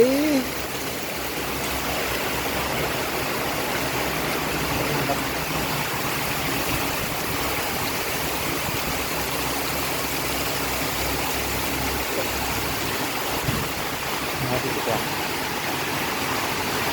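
Heavy rain pours down in a constant, dense roar of hissing noise, steady throughout with no clear breaks.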